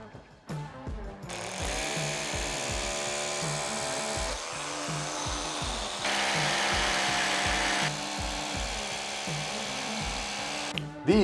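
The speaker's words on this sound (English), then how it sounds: "You must have a hammer drill for masonry." A hammer drill with a masonry bit bores into masonry in sustained, loud bursts with a rapid pounding rhythm, pausing briefly between runs.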